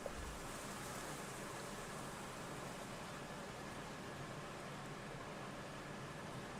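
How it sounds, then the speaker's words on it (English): Steady, broad rushing wind sound effect with added reverb giving a hollow, reverberant quality, continuous and even throughout with no voices. "so that's the wind."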